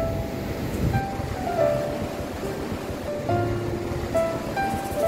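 Continuous wash of sea waves breaking on the shore, a broad rolling roar with faint tones drifting in the background.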